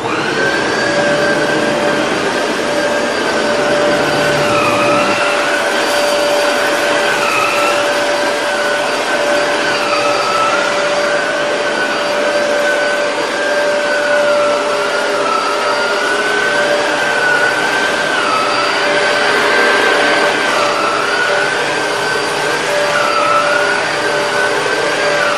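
Shark Rotator Powered Lift-Away TruePet vacuum cleaner running continuously, a loud steady motor whine with slight pitch wavers as it is maneuvered, close and alone without talk.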